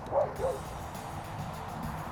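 A dog on a farm left outside unsupervised gives two short barks near the start, then the scene settles into quieter background noise.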